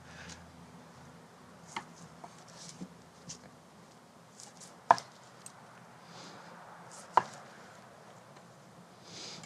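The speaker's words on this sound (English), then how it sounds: "So I'm literally going to slice right through the plastic wrap." A knife slices through plastic wrap around herb-edged grilled tuna in a quiet setting: a few soft cutting taps, then two sharper, louder clicks spaced a couple of seconds apart.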